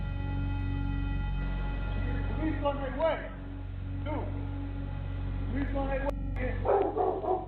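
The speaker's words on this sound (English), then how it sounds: "Got dogs barking." Dogs bark in short bursts against a steady low background hum, several yips and barks spread across the span, moderately distant.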